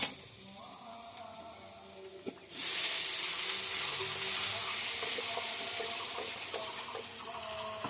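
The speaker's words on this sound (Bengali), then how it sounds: "এবার আমি জলটা দিয়ে দেবো।" Water poured into sizzling, well-fried masala for a pumpkin-stem and country-chicken egg curry sets off a sudden loud hiss that starts partway in and stays strong, gradually settling, close by.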